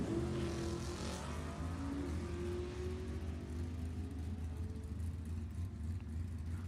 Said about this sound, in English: Couple of old school Mustangs going down the track here